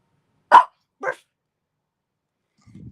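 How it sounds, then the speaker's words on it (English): A puppy lets out two short, sharp barks about half a second apart, close and clear, followed by a faint low rustle. "And then there's a puppy."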